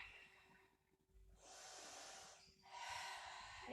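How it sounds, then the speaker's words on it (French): Slow, audible breaths during a Pilates exercise: a quiet inhale, then two long, airy exhales through the nose and mouth, close and soft with no talking. "Inspire, expire."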